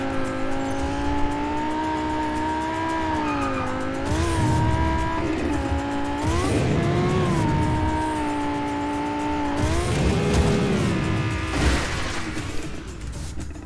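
Car driving in the Just Cause 4 video game: a steady, loud engine drone rises and falls in pitch with gear changes, with bursts of tire squeal and skidding around the middle and end. No voices.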